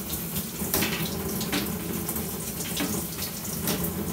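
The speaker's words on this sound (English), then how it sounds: "I'm going to rinse it here." Tap water runs over a fishing rod as it is rinsed under a faucet, a steady, close splashing rush with slight fluctuations throughout.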